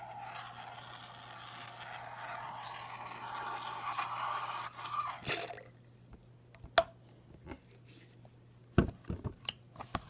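Homemade fluffy slime being stirred, giving a steady soft wet squishing at first, then quieter, with sharp separate sticky clicks and squelches near the end.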